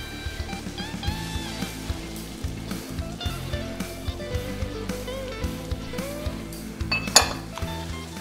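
Tomato paste and crème fraîche being stirred into a reduced sauce in a pan, heard as a run of light spoon clinks and scrapes against cookware, with a soft sizzle beneath and a sharper clatter near the end.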